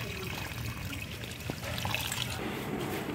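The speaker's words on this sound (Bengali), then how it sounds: "কাটা হয়ে গেছে, এবার আমরা মাছটাকে ধুয়ে নেব।" Running water splashes and trickles over cut prawns as they are rinsed in a kitchen, a moderately close, uneven pouring sound with small knocks and shifts.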